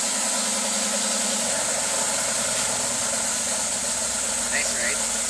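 A Wald Black Bison Mercedes-Benz G63 engine runs steadily after a cold start, a constant close engine drone filling the whole stretch, with someone talking faintly over it.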